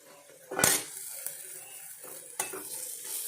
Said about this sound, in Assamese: তাৰপিছত আদা নহৰু যিখিনি পেষ্ট আছে সেইখিনি দি দিম